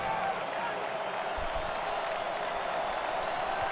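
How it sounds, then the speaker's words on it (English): A football stadium crowd at Ohio State roars steadily on third and goal, a dense, continuous wash of cheering and noise filling the whole moment without letup. "the crowd getting loud here on its third and goal"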